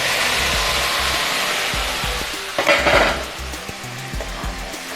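Ginger, garlic and onion paste frying in a pan for an Assamese fish curry, a steady close sizzle with a few stirring scrapes and spoon taps, swelling briefly louder midway.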